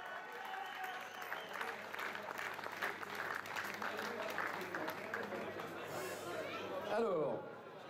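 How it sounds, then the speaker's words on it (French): A crowd claps for the winning teams at the finish and podium ceremony of an urban raid, a sustained dense round of applause with chatter and a voice mixed in, ending in a brief swell of noise. "on les applaudit de nouveau très fort, merci pour eux"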